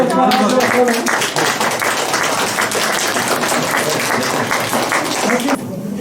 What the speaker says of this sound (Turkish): Siz de kendinizi bir alkışlayın.